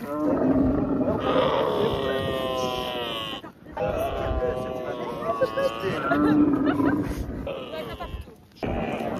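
Camels in the desert letting out long, drawn-out groaning bellows close by, in several stretches broken by brief gaps.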